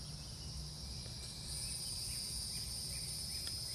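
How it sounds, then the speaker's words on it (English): Cicadas buzz steadily in a dense, high, continuous drone that holds unbroken throughout, with a faint low rumble beneath and no voices. "right now you can feel the frequencies of those cicadas"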